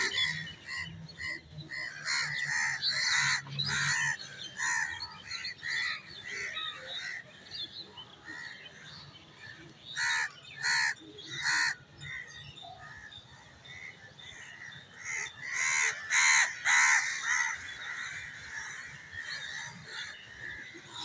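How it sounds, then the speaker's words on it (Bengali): Many crows caw all around, harsh squawking calls coming in repeated bursts from several directions, some loud and near, others farther off, with short lulls between clusters. "এখন চতুর্দিকে আমাকে কাক ঘিরে রেখেছে"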